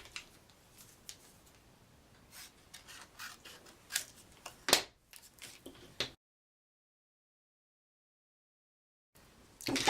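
Scissors make a run of quick, close snips and crisp rustles while cutting off material for a wine-themed wall art craft, then fall silent before a final burst of handling noise.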